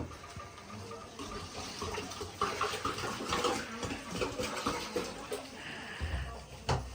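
Water pours and splashes steadily into a cooking pot for several seconds, with clattering and some background voices mixed in.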